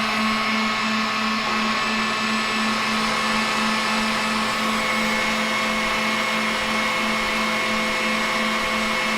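A KitchenAid Professional 6000 HD stand mixer with a DC motor running at its fastest speed gives a steady, loud, close motor whine with a constant hum, unbroken for the whole stretch and with no talking.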